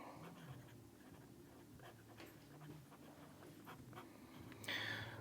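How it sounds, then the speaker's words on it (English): Close, steady panting from a puppy as it licks an elbow, with soft wet licks and faint rustles continuing for several seconds, followed by a brief brighter burst of noise at the end. "The puppy is currently licking my elbow."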